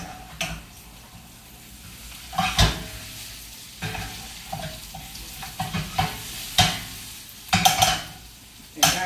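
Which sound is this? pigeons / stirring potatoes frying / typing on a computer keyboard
stirring potatoes frying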